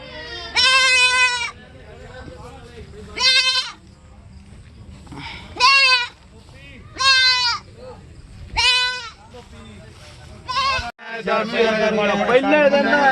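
Goats at a village goat market in Khara, Punjab bleat loudly in several separate cries spread across the stretch, over a low murmur of market noise and people talking.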